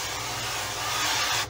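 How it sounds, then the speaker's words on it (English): An oil sprayer mists cooking oil over cauliflower without propellant, giving a short, steady hiss close by that cuts off abruptly at the end. "Just watch how easily this sprays out even without the propellant."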